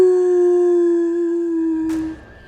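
A boy imitates a wolf's howl, one long steady tonal wail held for about two seconds before it breaks off into a brief noisy rustle.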